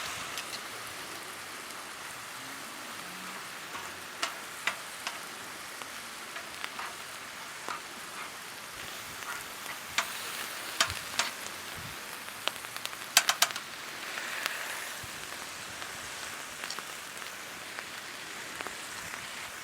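Sauerkraut with Thousand Island dressing sizzles steadily on a Blackstone griddle, a soft hissing fry broken by scattered sharp pops and crackles.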